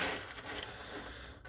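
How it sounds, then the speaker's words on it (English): Audi S4 car keys with key fob jangle briefly up close in a short metallic rattle. "Let me grab my keys real quick."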